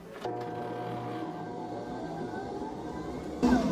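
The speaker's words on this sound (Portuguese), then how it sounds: "Faça sempre assim, que a evolução da clara em neve, ela começa a evoluir bem quando você põe ela sozinha na batedeira." Electric stand mixer whipping egg whites at high speed, a steady whirring motor drone with a faint tonal whine, close and continuous, with a louder burst at the end.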